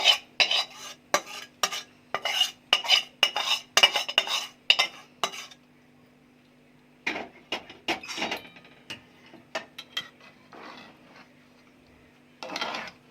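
Spices are mixed into boiled dal, rice and potatoes in a pressure cooker with a run of rhythmic clinks and scrapes of a spoon against the metal pot, then a pause and a second, more scattered burst of stirring.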